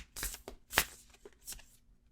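A deck of thick oracle cards being shuffled by hand in several quick riffling bursts, crisp and close, with short pauses between them and no talking over the sound.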